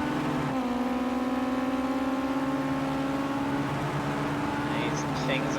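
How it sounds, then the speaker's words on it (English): Ginetta GT5 race cars in Project Cars 2 rev hard in a sustained, droning engine whine with steady harmonic pitch, loud and continuous, with a brief shift near the start and faint higher chirps at the end. "These things are revving out. They make a lot of noise, these Ginetta GT5s."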